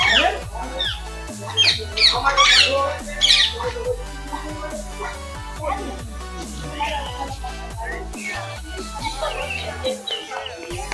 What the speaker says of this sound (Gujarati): એટલે કે પોપટ